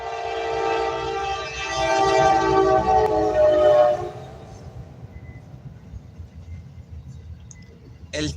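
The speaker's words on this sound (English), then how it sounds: "This is like the 5th fucking train that has come through." A train rumbles past with a loud, tonal horn blast lasting about four seconds, then fades into a lower rolling rumble and clatter of cars, heard from fairly close outdoors.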